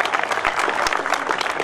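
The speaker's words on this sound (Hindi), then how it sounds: "एक बार जोरदार तालियां हो जाए देवाशीष के लिए, कम ऑन" Lively applause from an audience at a stand-up comedy show, loud and continuous with dense overlapping claps.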